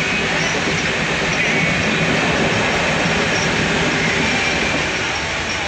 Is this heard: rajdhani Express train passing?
yes